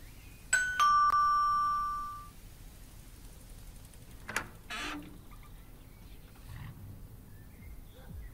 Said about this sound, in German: Klingel, dann klingeln wir mal.